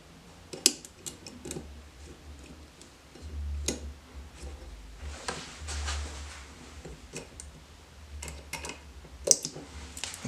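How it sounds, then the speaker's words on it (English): A micro-tip flathead screwdriver pries at plastic on a Smith & Wesson SD9VE pistol while the back plate is refitted, producing sharp close ticks and clicks scattered over a low background hum. "we'll use our microtip flathead screwdriver just to pull on this piece of plastic so we could go ahead and reinstall our back plate"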